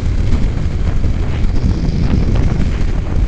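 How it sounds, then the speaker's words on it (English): Strong wind buffeting outdoors beside a lake, a constant loud rumbling roar with gusty low-frequency pressure on the microphone throughout. "Woo, very windy."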